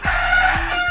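A wild jungle-fowl rooster at a poultry farm gives a loud crow close by, one strong sustained call that fills the moment.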